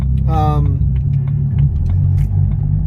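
A BMW 335i with a 450 hp engine drives on a closed course, a steady low engine rumble running throughout with a brief rising whine early on, while a person talks over it.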